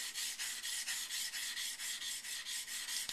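A steel chisel is hand-sharpened, its blade rubbed back and forth on a stone in a steady rhythm of about fourteen even rasping strokes, close and fairly loud with no talk.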